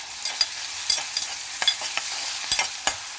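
Zucchini frying with ginger garlic paste, a steady close sizzle broken by several sharp scrapes and taps of a spoon stirring in the pan, no voices.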